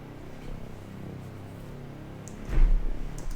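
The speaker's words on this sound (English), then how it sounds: "For the respace, I also used a preset that I made myself on Serum" A basic resonant synth bass preset made in Serum plays low sustained tones in a future bass production, building into a louder swell near the end.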